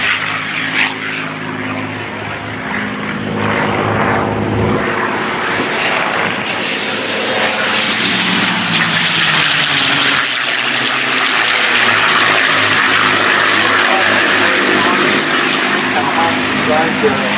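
A P-38 propeller warplane flies at the Flying Legends airshow at Duxford in 2016, its loud, steady engine drone swelling and holding as it passes, with voices talking over it.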